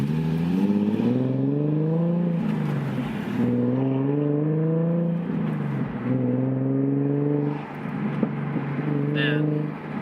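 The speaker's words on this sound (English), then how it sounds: "I just love that exhaust, dude. That freaking that told me. The popping, the backfiring." Stillen supercharged Nissan 370Z pulling hard, its exhaust droning loud and close through repeated rising gear pulls with brief dips between shifts, a person talking over the engine.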